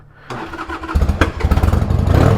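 A Harley-Davidson Sportster 883 engine cranks and fires up close by, a brief starter whir followed by a loud, lumpy, pulsing idle that builds steadily.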